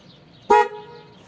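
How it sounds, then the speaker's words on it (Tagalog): An e-bike's newly fitted dual horn gives one loud, close honk of about a quarter second, with a brief fading tail, against a quiet background. "ibusin na natin sa dual horn."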